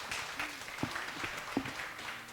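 A church homecoming talk show audience applauds briefly, a soft scattered patter of clapping with a few sharper individual claps, fairly faint and distant.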